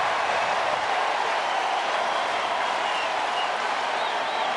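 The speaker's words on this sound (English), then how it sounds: "All he can do is turn on the applause sign, and the crowd will follow." A packed baseball stadium crowd applauds at a Tampa Bay Rays versus San Diego Padres game, a dense, steady roar of clapping and cheering that holds at an even, loud level throughout.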